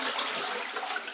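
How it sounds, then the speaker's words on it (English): A toilet flushing with an empty tank in an off-grid setup gives only a partial flush, a short hissing rush of water that stays fairly faint and steady and then trails off without a full swirl. "So if I were to push this flush,"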